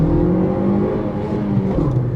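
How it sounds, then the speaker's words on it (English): A 2021 Maruti Suzuki Swift hatchback accelerates hard from a standing start with wheel spin, its engine revving past 6000 RPM in a loud, continuous, rising drone close by. "Revs over 6000 RPM. Keep listening to the engine."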